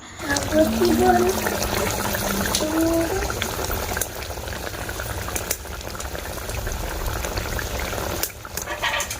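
A fish curry boiling in a pot on the stove, giving a continuous, close bubbling and simmering with a voice briefly audible near the start.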